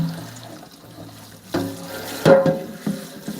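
Scalding hot water runs from a tap in an RV, with splashing and gurgling bursts, loud and close, surging unevenly into a sink.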